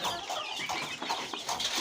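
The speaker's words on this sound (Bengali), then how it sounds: "এগুলা দেশি মুরগির বাচ্চা।" Young local-breed chicken chicks in a brooding pen, a busy flock of around fifty to sixty chirping and clucking together in continuous, overlapping calls, close by.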